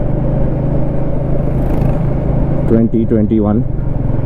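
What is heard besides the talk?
Royal Enfield Meteor 350 motorcycle engine while riding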